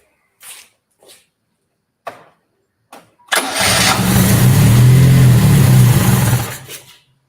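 A Yugo car engine cranks in a few short bursts, then catches and runs loudly and steadily for several seconds before dying away, close and alone with no talk.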